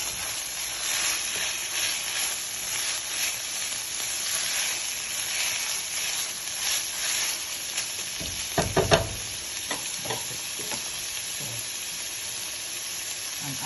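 Ground beef frying in a pan with paprika, cilantro, powdered onion, garlic and crushed red pepper, a steady close sizzle with a few louder scraping stirs and clatters near the end.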